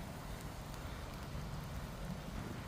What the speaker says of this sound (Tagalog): Kahit umuulan guys.